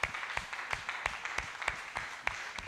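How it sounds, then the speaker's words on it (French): A church congregation at a morning worship service claps in a slow, regular rhythm, distinct beats spaced evenly and fairly quiet in the room. "Est-ce que nous pouvons applaudir encore le Seigneur Dieu de notre exaucement?"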